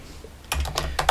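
Fast computer keyboard typing while code is written: after a brief quiet moment, a close, crisp burst of quick keystrokes clicks in an uneven rhythm, with no talking.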